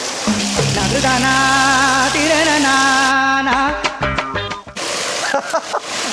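Water sprays and splashes loudly at close range while a rottweiler is washed outdoors, with a steady tonal hum underneath and the spray briefly breaking off before resuming.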